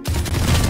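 Shotgun fire in the tactical shooter game Valorant, a loud sustained burst of gunfire with a booming low end that fills the short moment without pause.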